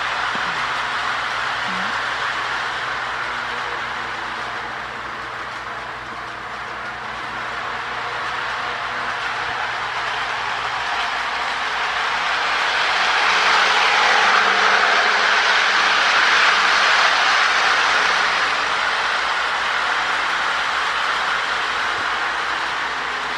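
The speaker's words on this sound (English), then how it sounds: "It runs and it's really smooth. It's great running, that locomotive." Lionel Alco AA Texas Special model locomotive running smoothly on track, a continuous soft mechanical whir and rumble that swells in the middle and then eases, with no voices.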